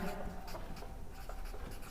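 A pen scratches across paper while a board exam model-paper answer is worked out, producing faint, close, intermittent scratchy strokes in short bursts with quiet room tone.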